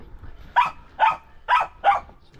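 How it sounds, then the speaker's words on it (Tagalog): A pet dog barks four times at a steady rhythm, each bark short and sharp, fairly close and moderately loud against a quiet outdoor background. "ang ingay po ng ating aso"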